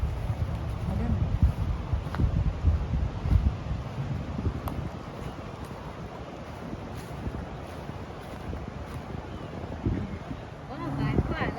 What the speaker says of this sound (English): Oh, I like the wind.